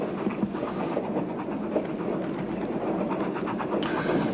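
A train runs along its rails, giving a steady, close rumble with faint rhythmic clatter throughout and no talk.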